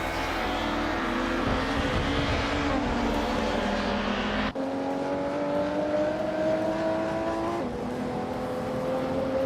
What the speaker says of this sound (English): The BTC cars are dominating, with Forte Afro leading and maintaining a strong pace